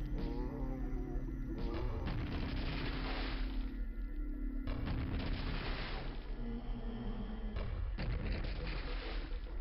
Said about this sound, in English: This grenade launcher is stupidly satisfying